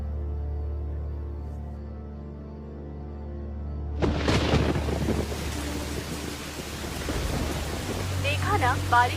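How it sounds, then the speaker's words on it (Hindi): Rain begins abruptly partway through with a rush of drops and low rumbling thunder, following a steady low hum; wind buffets the microphone and a voice is faintly heard near the end, as a storm moves in over south Bengal at midnight. "देखा ना, बारिश शुरू हो गई."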